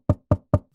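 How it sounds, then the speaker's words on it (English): Three firm knocks on a door, evenly spaced and close, loud and sharp with nothing else around them. "you hear a knock on the door"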